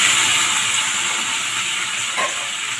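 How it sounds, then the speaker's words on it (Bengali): Masala spices frying in a hot pan give a loud, constant sizzling hiss close by, with a brief clink near the end and no talking. "मसाला देके 2 मिनट इसको भूनना पड़ेगा"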